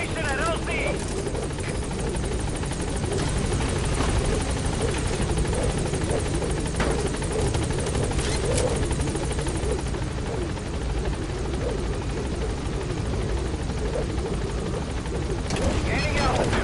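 Helicopter arriving at a landing zone in the video game Metal Gear Solid V, its rotor thrumming loud and continuous throughout, with a radio voice speaking over the din.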